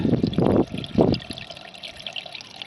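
Slightly muddy water gushes from a fish pond filter pump, two strong splashing surges up front easing into a softer steady trickle, close and alone.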